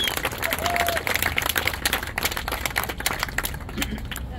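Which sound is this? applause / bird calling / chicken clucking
applause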